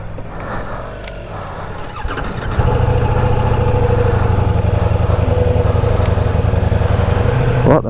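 A Ducati XDiavel V4 motorcycle engine fires up and settles into a loud, steady close-up idle after a few seconds of quieter handling noises, with faint clicks before it starts.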